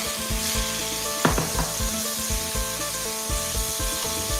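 Pork stir-fries in a pan for a northern Thai winter melon curry with glass noodles, a steady sizzle under rhythmic scraping strokes of a spatula, close and continuous.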